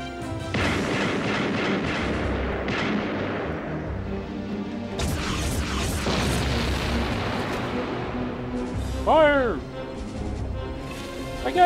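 Gunfire in Ground Zero Texas sounds as a series of booming, crashing shots with explosive bursts, loud and close, mixed with other game effects and a brief rising squeal, while a voice talks over parts of it.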